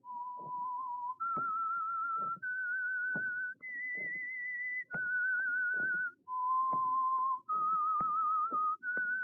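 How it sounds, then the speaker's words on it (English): A clear whistled melody of sustained, steady notes stepping up and down in pitch, each held for about a second, with soft footsteps beneath. "That whistle is your signal for the Signal Oil Program"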